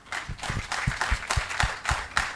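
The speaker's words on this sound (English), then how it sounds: "Another round of applause, please." An engineering conference audience claps steadily, with many hands producing a dense patter of applause that stays at an even level for a couple of seconds.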